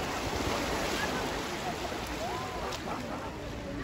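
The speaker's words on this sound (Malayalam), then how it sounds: "അവിടെ നിന്ന് വലിയ തിര വരുന്നത്" Large ocean waves roll in at an island shore in hot, sunny weather, making a steady, soft rushing wash mixed with wind buffeting the microphone.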